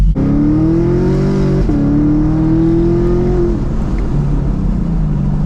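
Car exhaust with NPP active exhaust valves opened in sport mode on a supercharged car, a loud steady deep drone holding a rising pitch, then dipping briefly and settling near, with no talk.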